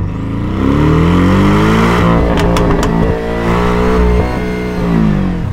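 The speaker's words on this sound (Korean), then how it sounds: "배기음 자체는 저는 얘가 더 좋은 것 같아." A car exhaust revs hard from an Avante N, Veloster N or Cayman, a loud, close, sustained engine roar rising and falling in pitch with crackling pops in the middle.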